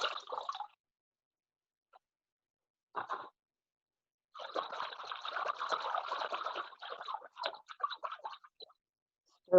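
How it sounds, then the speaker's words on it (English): Paper pulp poured from a container into a water tub for papermaking, heard as short bursts of splashing and trickling liquid, then a longer pour with dripping and gurgles, close with quiet gaps between. "I mix the pulp and then pour it into the tub."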